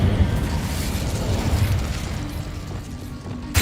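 An Incendio fire spell cast in the video game Hogwarts Legacy: a dense rumbling burst of flame and roar, loud and close, holding through most of the moment before easing toward the end.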